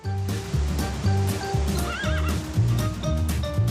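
A horse pulling wheeled bathing cabins on a Finistère beach, whinnying loudly once above steady, rhythmic clip-clopping hooves, with faint surf in the background.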